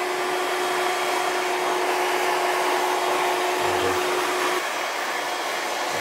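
A handheld hair dryer blows steadily on hair at close range, a constant even whoosh with a faint steady whine, briefly changing tone near the end as it is moved or switched.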